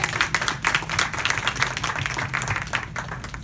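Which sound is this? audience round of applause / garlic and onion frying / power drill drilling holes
audience round of applause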